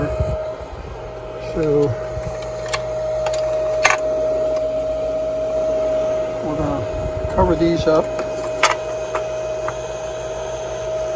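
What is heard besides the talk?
electric blower of Emenee organ running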